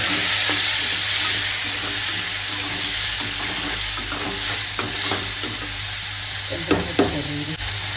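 Onions and tomatoes are sautéed in a pan, a steady close sizzle broken by repeated scraping and stirring strokes of a spatula, a few sharper clatters near the end, with no voices.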